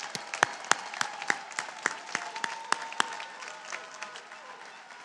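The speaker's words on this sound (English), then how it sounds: "Why don't we give one more round of congratulatory applause?" Commencement audience at the UT Health School of Public Health 2019 ceremony gives a round of congratulatory applause, a hall of clapping with crisp individual claps popping forward, moderately loud and steady, tapering slightly toward the end.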